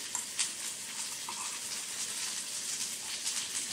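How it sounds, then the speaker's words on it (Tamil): Chopped onions sizzle in hot oil already crackling with mustard seeds and urad dal, a steady soft frying hiss with faint bursts, moderately quiet and continuous with no talking. "அதுக்கப்புறம் வெட்டி வச்சுருக்க வெங்காயத்தை போட்டுக்கணும்."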